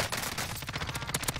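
Rapid gunfire from Call of Duty Warzone plays as a quick burst of repeated sharp shots over a short moment, fairly loud and with no talk.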